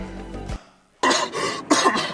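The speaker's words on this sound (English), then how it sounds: "Okay, someone's coughing." Several harsh coughs and throat-clearing bursts from a played freestyle rap track, coming in two loud, close clusters after a brief low tonal passage and a short near-silence.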